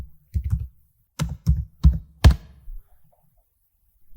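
Typing on a computer keyboard during an Amazon seller account sign-up, several distinct heavy keystrokes in short bursts with pauses between, close and clear with no talking.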